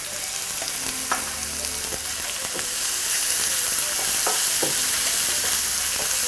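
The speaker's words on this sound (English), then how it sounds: "I'm going to add salt to the onion, and this speeds up the browning of the onion." Onions frying with coarse salt in a pan for chicken biryani give a steady, loud sizzle that swells slightly and keeps going, with a few soft stirring clicks and scrapes.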